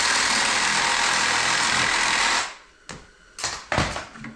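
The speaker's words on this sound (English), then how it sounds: "Get the old Sawzall." A Sawzall reciprocating saw cuts through a deer carcass in a garage, a steady loud buzzing drone for over two seconds, then it stops and a few short bursts and knocks follow.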